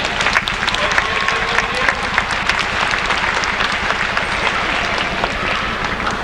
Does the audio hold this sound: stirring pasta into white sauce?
no